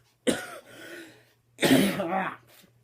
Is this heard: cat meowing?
no